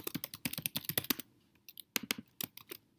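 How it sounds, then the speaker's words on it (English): Rapid clattering keystrokes on a computer keyboard as a password is typed, coming in quick bursts with a short pause partway through, close and fairly quiet, with no talking. "I'm trying to type and make up a password here"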